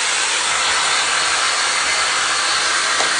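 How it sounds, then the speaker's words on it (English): A hair dryer blows continuously, a loud, steady whooshing roar close by. "Paddle brush, blow dryer."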